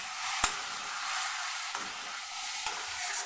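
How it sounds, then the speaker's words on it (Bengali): Kuwash vegetable ghonto, a fully vegetarian Bengali dish, sautéing in a pan: a steady close sizzle broken by three sharp stirring scrapes, with no talking. "কুয়াশটা দিয়ে এটাকে আর একটু কষিয়ে নেব।"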